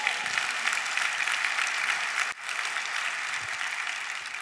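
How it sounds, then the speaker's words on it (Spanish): Church congregation applauding during a sermon, dense continuous clapping from a large room with a brief dip midway before it carries on. "Dale un aplauso a Cristo."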